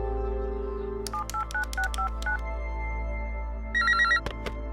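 A telephone on speakerphone dials a quick run of keypad tones, then a short burst of electronic ringing follows. The tones are loud, clean and close, with no talk.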